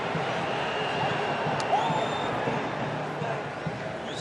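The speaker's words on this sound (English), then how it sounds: "There's a cheer from the DRC fans." DRC supporters cheer in a football stadium during a Morocco versus Congo match, a broad distant crowd roar holding steady throughout, with a commentator talking over it.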